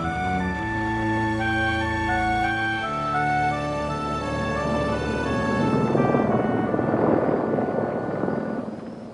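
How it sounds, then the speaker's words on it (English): Long-range helicopters arrive at an Antarctic station, a loud, steady rotor and turbine drone that swells into a broad roar as they come close, with no talk. "The long-range helicopters have come in to take us back to the ship."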